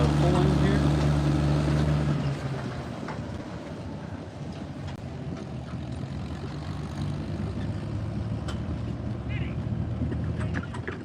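Antique tractors at a tractor pull in Blissfield, Michigan, drone with a heavy, continuous engine rumble; it is loud at first, then drops and holds steady at a distance, with voices faintly underneath.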